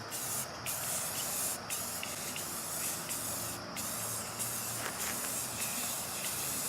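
A continuous, loud hiss of an aerosol spray can, with brief pauses between bursts, close to the listener.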